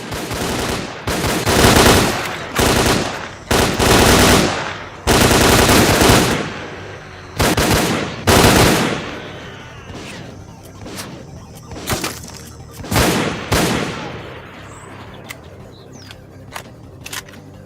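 Repeated bursts of AK rifle fire in the video game S.T.A.L.K.E.R.: Clear Sky, with loud rapid volleys separated by short pauses, then quieter scattered shots later on.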